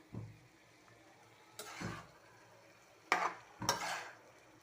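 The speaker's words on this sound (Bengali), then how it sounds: "এক চুলায় তরকারি রান্না করতেছি, কষাইতে দিয়ে দিছি" Curry being sautéed (kosha) in a pan on a gas stove, with a few separate bursts of stirring and scraping against the pan over a low background hiss, each lasting about a second.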